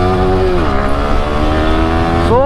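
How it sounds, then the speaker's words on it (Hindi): A motorcycle running without an exhaust, ridden on a mountain road to Patnitop, revs loudly and steadily. Its raw engine note drops in pitch, holds, then climbs again near the end, close to the microphone. "बाइक खींचने का इतना ज़्यादा मज़ा आ रहा है विदाउट एग्जॉस्ट यार, ओरिजिनल साउंड तो ओरिजिनल होती है बाइक की"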